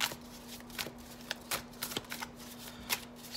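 Tattoo Tarot cards being shuffled by hand in a quiet room, with quick papery riffles and slaps in irregular bursts, close and clear with no talking.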